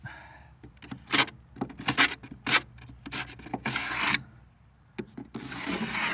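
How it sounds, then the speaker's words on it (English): Short, irregular scraping strokes of a chisel against wood while repairing a hatch, close up, with bursts of rasping and brief pauses between them. "Just have to do the last little bit of chisel."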